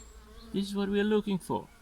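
Honey bees buzz at a hive during a swarm feeding, a short close buzz in a few bursts over a quiet background.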